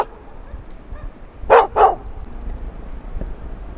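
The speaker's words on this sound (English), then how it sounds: "it was hard to get a shot without the dog barking at me" A dog barks twice in quick succession, moderately close, in a quiet outdoor spot near cliffs in Güicán, Colombia, with soft background hiss before and after.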